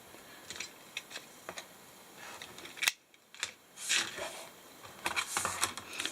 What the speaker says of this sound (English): You can see I'm using my ceramic blade cutter.